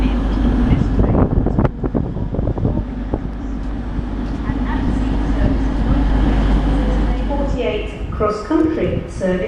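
A CrossCountry passenger train at Leicester station rumbles low and continuously under wind buffeting, with a voice speaking over the platform noise.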